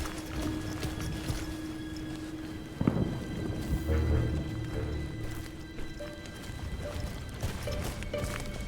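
Horses trot in a World War One game with steady clip-clop hoofbeats and a rumbling low thud, joined by a whinny partway through and a continuous tonal hum.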